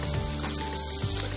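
Butter and olive oil sizzle steadily in a hot pan, a close, continuous frying crackle with a faint stirring shuffle, no voices over it.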